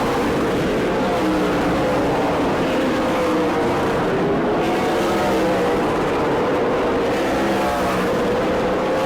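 Super late model stock cars race around the New Smyrna oval during World Series competition, filling the air with a loud, unbroken roar of engines that rises and falls as cars pass.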